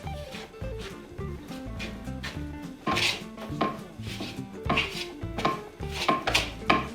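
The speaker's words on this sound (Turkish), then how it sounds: "Bunu böyle güzelce karıştırıyorum." A sourdough pide mixture with lemon being stirred in a bowl produces rhythmic knocking and scraping strokes, close and moderately loud, repeating in a quick, uneven pattern.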